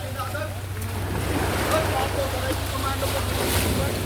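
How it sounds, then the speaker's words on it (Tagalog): Steady roar of big ocean waves and wind buffeting the microphone aboard a small Filipino fishing boat at sea, with the boat's low engine hum underneath and faint voices. "grabe, laking alon"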